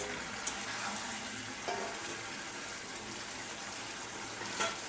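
Chapila fish dropped into a pan of potatoes set a steady, even sizzle going, with brief crackles standing out now and then over the continuous frying hiss.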